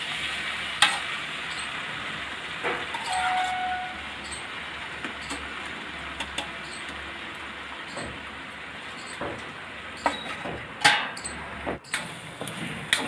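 Raw pumpkin curry cooks covered in a pan over low heat, giving a low bubbling sizzle broken by scattered clinks and knocks from the pan and lid.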